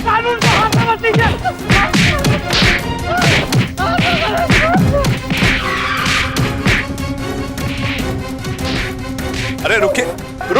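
Thuds and whacks fall in quick succession as a crowd beats someone in a Hindi courtroom TV drama scene, loud and close, with shouting voices mixed throughout.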